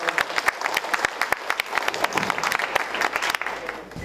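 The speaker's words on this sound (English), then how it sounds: "So let's give him a great big cheer this afternoon." An afternoon audience applauds loudly as Congressman Howard Berman is welcomed, a close, dense crowd of clapping hands with distinct sharp claps that continues steadily and begins to thin toward the end.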